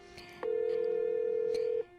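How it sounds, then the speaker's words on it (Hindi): A telephone call is placed, with a faint click or two, then a single steady electronic tone that holds for about a second and a half before cutting off. No talking is heard. "रीटा जेडी को फोन लगाती है।"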